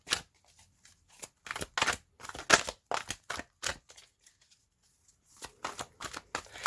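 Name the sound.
shuffling a deck of tarot cards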